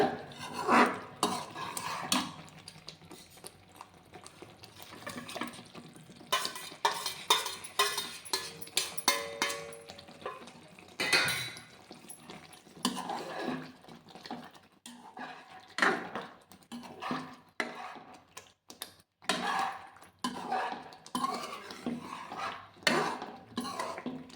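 Metal spoon scraping and clinking in a pan as eggs are mixed into an oily masala for egg curry, a steady run of close scrapes and taps with no talk.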